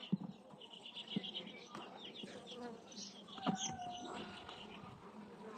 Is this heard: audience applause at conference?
no